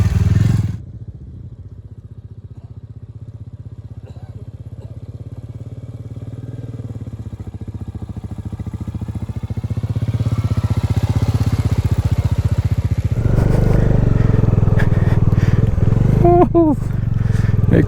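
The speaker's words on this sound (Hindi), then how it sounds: "सैंड में बाइक घुमा रहे हैं।" A motorcycle rides across the sand dunes at Hunder in Ladakh's Nubra Valley, its engine droning steadily and close, rising louder toward the end, with people talking over it.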